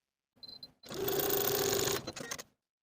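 A sewing machine stitches a neckband seam on a sweater dress, a brief close whirring run of about a second framed by soft clicks and handling noises.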